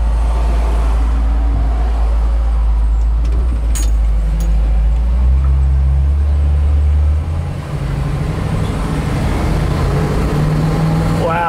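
Steady engine drone and road rumble from inside a 1963 Impala 409 moving through heavy traffic in Laguna, with a low continuous hum and a few faint clicks, while someone talks over it.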